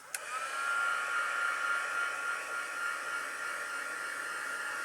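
A heat embossing gun blows steadily after a click on, a continuous airy whoosh with a faint whine, fairly quiet and unbroken, with no talking.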